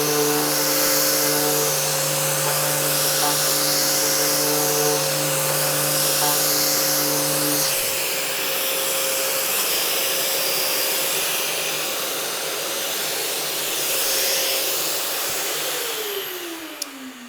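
Power sander with a 10 mm sponge abrasive pad, a steady loud motor whine with a tonal hum that shifts pitch partway through, running alone without talk until it winds down near the end.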